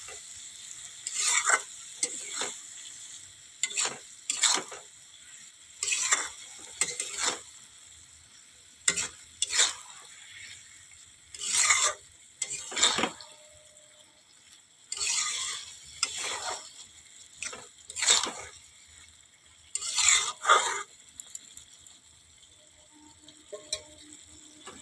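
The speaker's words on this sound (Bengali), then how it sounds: "একটু ভালো করে কষিয়ে নেব বন্ধুরা।" Spice paste and vegetables (pui greens, potato, brinjal) being sautéed in a pan: a quiet sizzle broken by repeated scraping strokes of a spatula in irregular bursts.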